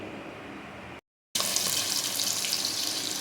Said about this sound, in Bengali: মাছগুলো আমি তেলের মধ্যে দিয়েছি এখন এপিটোপিট মাছগুলোকে একটু ভেজে নেব